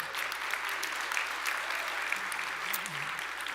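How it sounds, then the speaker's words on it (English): A conference audience at React Conf 2025 applauds, a dense, even wash of clapping that holds steady throughout, close and full, while a voice briefly sounds beneath it near the end. "Let's give her one more round of applause."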